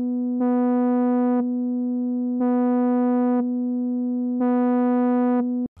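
A steady buzzy synth tone in Logic X holds while its upper layer switches on and off in three even, blocky pulses from gated square-shaped volume automation, then cuts out.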